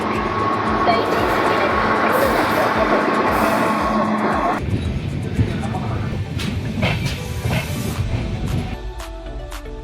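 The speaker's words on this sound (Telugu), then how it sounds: "ఒక ట్రైన్ అయితే వస్తుంది, చూద్దాం." A train rumbles past nearby, around Kazipet railway station, with a loud steady roar and rattling wheels, then fades into clacking and screeching as it moves on.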